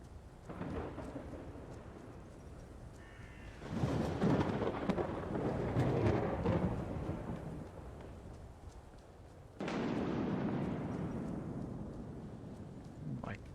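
A Skyrim thunderstorm in a modded game rolls on with sustained rain and low rumbling thunder, swelling loudly twice into heavy crashes, while a voice talks intermittently underneath.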